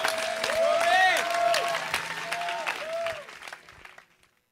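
A revival-meeting congregation applauds in a burst of claps that slowly fades out, with voices and sustained tonal sounds over the top.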